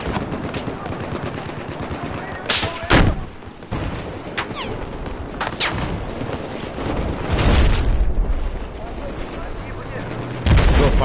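Gunfire from a sniper and other weapons in the video game Battlefield 4, with sharp shots scattered through a dense, noisy battle under ongoing game sound and a voice talking.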